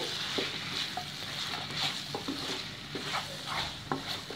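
Mutton biryani masala with mint and curry leaves being stirred in a pot, giving steady soft scraping and sizzling with a few light spoon knocks, close and continuous with no talking.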